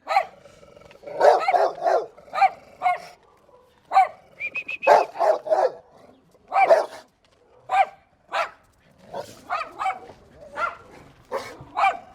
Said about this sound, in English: not a dog. Dog.